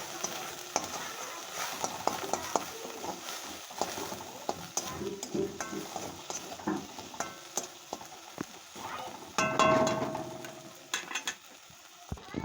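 Coriander leaves, turmeric and salt frying in a wok, with faint sizzling, scraping and stirring clatter in irregular bursts, a louder clattering stretch near the end.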